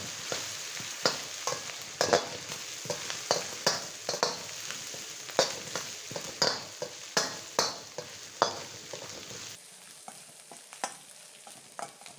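Beef with holy basil and chilies stir-fried in a pan gives a steady sizzling hiss, with a quick rhythm of spatula scrapes and knocks throughout and no voices.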